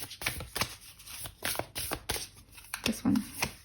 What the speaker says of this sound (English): So we're going to shuffle the Sacred Oracle deck, Sacred Destiny Oracle deck.